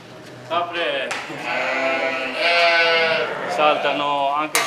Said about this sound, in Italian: Capre